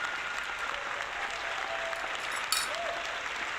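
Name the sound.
applause sound effect played on stream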